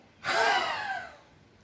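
A single forceful breath pushed out through an open mouth in yoga lion pose (Singhasana), a short loud whoosh that fades away over about a second.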